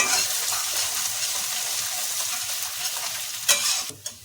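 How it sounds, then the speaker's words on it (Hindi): Garlic sizzles and fries with cumin seeds in a hot pan for an Awadhi soya methi aloo palak sabzi, a steady close hiss with light stirring scrapes and a brief sharper clatter near the end. "अब डाल देंगे, जब जीरा में हो गया तब डाल देंगे लहसुन।"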